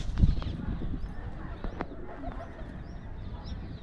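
Homing pigeon in its cage giving soft low coos close by, joined by a few scattered taps and rustles, with no talk.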